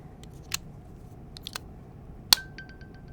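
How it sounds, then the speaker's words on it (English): An AirPods Pro 2 charging case gives its low-battery alert, a single short, quiet chime heard close up after a few soft clicks of handling. "this is the sound that it makes when you put your headphones in the case and the headphones are dying"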